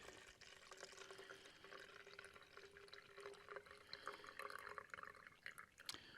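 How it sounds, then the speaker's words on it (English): A thin liquid pours steadily with a continuous trickling, splashing sound, close and fairly quiet, with small drips toward the end. "Pours almost like milk."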